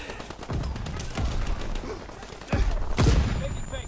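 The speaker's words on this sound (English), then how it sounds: "oh god, stun grenades, bro" Stun grenades going off in a shooter video game: a few sharp, loud bursts with broadband crackle, the biggest blasts landing near the end amid ongoing gunfire-like clatter.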